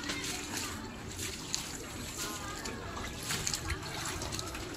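Floodwater behind a house during a typhoon, a soft trickling and sloshing under steady rain, close by and fairly quiet, with a few light splashes breaking through.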